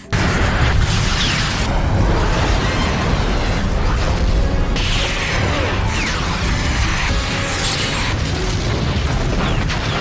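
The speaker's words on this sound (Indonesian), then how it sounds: "membuat ribuan misil tersebut mengenai satu sama lain dan meledak di atas udara" Continuous loud, dense rumbling with repeated booms and bursts as thousands of missiles collide and explode in the air at once, with no voices.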